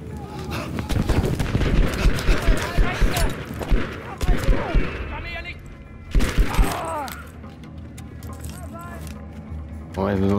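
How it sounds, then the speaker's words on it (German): Gunfire in Battlefield V comes in dense bursts of sharp shots and impacts, loud and close, with a lull in the middle before another volley, and someone talks over parts of it. "Ja, wir haben ein bisschen beschossen hier."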